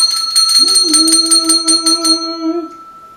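A small hand bell rings in a classroom music lesson, a bright, sustained ring with rapid repeated strikes for about two seconds, then a lingering tone that fades out, loud and close with no talking.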